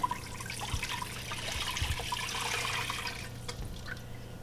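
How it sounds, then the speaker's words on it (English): Turkey broth is dumped into a soup pot of tortilla soup, a soft close sloshing and trickling pour that runs steadily for a few seconds, faint and without talk. "Here comes the turkey broth, and I'm just going to dump it right in."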